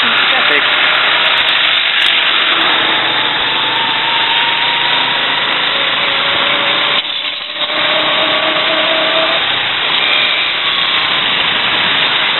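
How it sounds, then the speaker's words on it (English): A steady motorcycle engine drone, heard from the back seat, rolls on through traffic in Jin Shitan, loud and close, with indistinct voices mixed in. "So much fun to ride on the back of a motorcycle."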